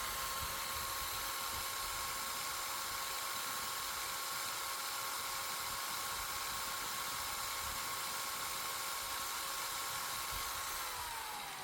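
A DongCheng DZJ02-13 corded electric drill runs steadily at full speed under no load, a loud, constant high whine with a faint dip in pitch as it slows near the end.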